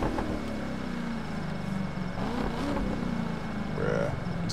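A Corvette C7 ZR1 in the racing game The Crew 2 idles and burbles with a low, rumbling engine note, fairly quiet and steady with small pops and revs, no talk over it.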